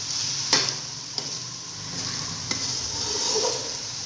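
Mixed vegetable masala roasts in a handi, sizzling steadily up close with a few sharp scrapes and clinks of stirring.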